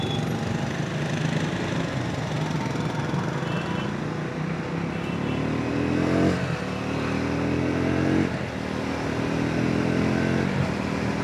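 A Triumph Speed 400 motorcycle (MY25) cruising in sixth gear, its engine a steady, loud drone with rising and falling pitch sweeps as the rider eases the throttle, continuous over wind rush.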